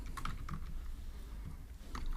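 Fingers type code on a computer keyboard in quick, soft, irregular clacks, faint and close, over a low background hum.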